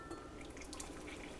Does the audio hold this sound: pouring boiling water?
yes